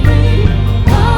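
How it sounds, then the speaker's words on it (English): Synth pads in a church worship mix, panned hard left and right, hold a sustained chord that changes once near the end, loud and steady with no talking. "And then the synth, the pads, they're always hard left and hard right"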